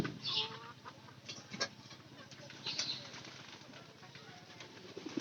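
Backyard hens near egg-laying time cluck softly and intermittently, faint and somewhat distant, with a few brief wing flutters and other birds around them.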